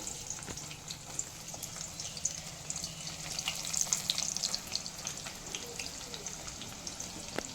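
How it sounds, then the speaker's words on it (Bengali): Sliced onion fries in hot oil with whole garam masala, giving a quiet, steady sizzle with small crackles and occasional stirring, fairly faint and without talk. "কেটে রাখা পেঁয়াজটা দিয়ে খুব ভালো করে ভেজে নিচ্ছি"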